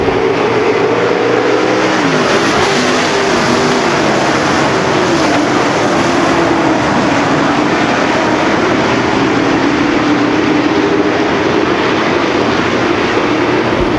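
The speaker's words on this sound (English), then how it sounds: "Dave Moss set to take the green flag. 20 laps. The Super Stocks" Super Stock race cars roar together at a green-flag start at Ogilvie Raceway, a loud, continuous pack of engines whose pitch rises and shifts as they accelerate past.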